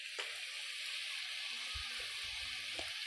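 Chicken frying in a pan with coriander leaves and ginger-garlic paste gives a steady, soft sizzle throughout, with a few faint scrapes and stirring knocks near the end.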